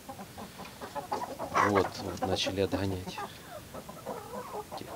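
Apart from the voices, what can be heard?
chickens clucking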